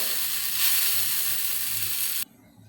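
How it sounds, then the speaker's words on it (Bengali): Noodles with noodle masala frying in a hot pan give a steady, close, bright sizzle for about two seconds before cutting off abruptly. "ভালোভাবে 2-3 মিনিট ভেজে নেব"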